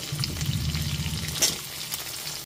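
Papaya pieces fry in a pan along with other vegetables for a labra dish, giving a continuous close sizzle with a brief louder crackle midway and no speech.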